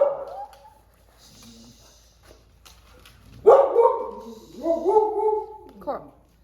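Dogs being taken outside in the morning let out short barks and yips close by, interspersed with a child's or person's voice.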